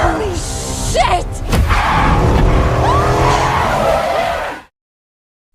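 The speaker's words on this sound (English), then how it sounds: "this causes Vanessa to lose control of the vehicle and crash into the roadside" A car in a film skids out of control and crashes into the roadside: a loud tire screech with a heavy thud, then a sustained scraping rumble that cuts off abruptly into silence.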